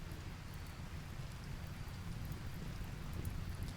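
Heavy rain pours steadily in the video game RimWorld, a dense, even hiss of downpour that holds at a constant loudness throughout, with no voices.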